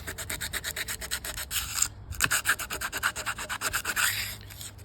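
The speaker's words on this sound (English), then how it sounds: "just got to take a little bit of sanding, just smooth off" Rhythmic back-and-forth rasping of sandpaper on a stringybark wood shelf, steady strokes close by with a brief pause midway, no voices.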